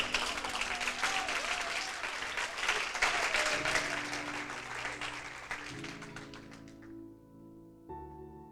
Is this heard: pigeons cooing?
no